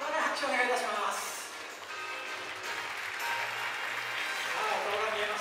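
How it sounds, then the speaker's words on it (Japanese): An audience at a kimono contest stage show applauds in sustained, steady clapping, with voices and some tonal sound mixed in beneath it. "どうぞ皆さん大きな拍手をお願いいたします。"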